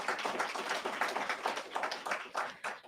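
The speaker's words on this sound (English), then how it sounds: "Another round of applause for our Consul General." An audience at a formal presentation applauds, and the clapping comes through as a faint, dense patter of many hands from a distance that runs steadily for a few seconds.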